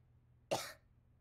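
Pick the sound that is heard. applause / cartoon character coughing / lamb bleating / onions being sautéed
cartoon character coughing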